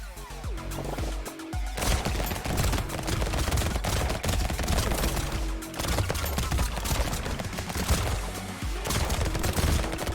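Gunfire from a sniper gun in the Brotato video game, with rapid overlapping shots running loud and dense the whole way through, amid busy game effects and music.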